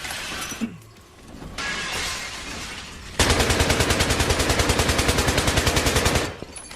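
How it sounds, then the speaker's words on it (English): Fully automatic gunfire rips through items on a wall in a long, rapid, evenly spaced burst of loud shots lasting about three seconds, following noisier rustling before it and ending abruptly. "I want you to try to destroy everything on this wall from behind the table with fully automatic holding down your trigger"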